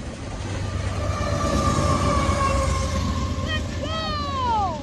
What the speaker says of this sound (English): Train is coming! See what it is! Kansas City Southern!